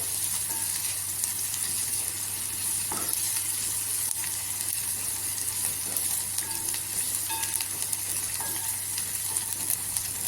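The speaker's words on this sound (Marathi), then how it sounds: "इथे लसूणला गोल्डन करून घ्यायचं" Garlic sizzling in hot oil as it turns golden, a continuous close frying hiss with occasional light stirring clinks and no voices.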